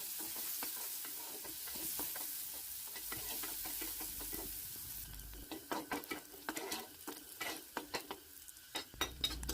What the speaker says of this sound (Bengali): আমি কড়াইয়ের মধ্যে ঘিটা দিলাইছি তখন আমি এর মধ্যে অল্প কাজুরে বাজিলিম